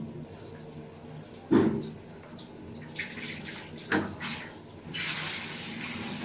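Water running in a bathroom from a built-in faucet and a hand spray, a steady hiss and splash with a few louder bursts as the flow shifts, close by.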